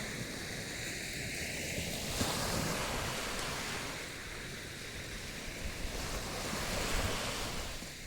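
Surf rolling onto the shore at Wako beach water park, a steady broad wash of breaking sea waves that swells and ebbs, with wind buffeting the microphone and no voices.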